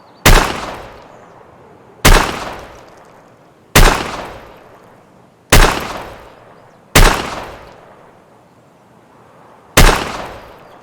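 Six loud single gunshots from a pistol in Escape from Tarkov fire at a target, spaced about two seconds apart. Each sharp crack decays into a long echoing tail, and no one speaks.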